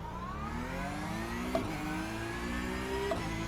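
A race car in iRacing revs hard in first gear at full throttle from a standing start. The engine note climbs steadily, loud and close, with two brief gear-change blips along the way.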